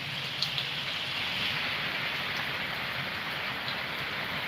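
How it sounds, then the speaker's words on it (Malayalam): Heavy rain pours steadily, a dense, even hiss of drops striking surfaces with no break, close and constant. "ഇവിടെ നല്ല മഴ പെയ്തോണ്ടിരിക്കയാണ്"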